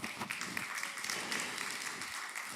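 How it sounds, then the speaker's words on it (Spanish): A church congregation applauding during a service, a steady wash of clapping from many hands heard from a distance and fairly faint, without pauses. "dele un aplauso a Jesús por su palabra"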